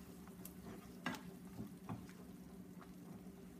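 Chopped spring onion sizzling gently in a hot pan, with a soft steady frying hiss broken by a few quiet stirring clicks and scrapes.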